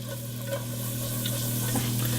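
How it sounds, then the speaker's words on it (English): Half a stick of butter melting over medium heat in a preheated pan gives a steady, soft sizzle with a faint low hum beneath, continuous and close throughout. "So you let the butter melt"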